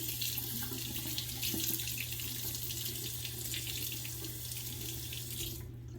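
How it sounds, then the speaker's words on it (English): Water runs steadily from a tap into a sink while a safety razor is rinsed, a continuous loud hiss with a low hum beneath, cutting off at the end. "Don't have any problem rinsing out that razor too."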